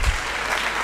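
Church congregation applauding during a sermon, a brief, loud burst of dense clapping from a crowd.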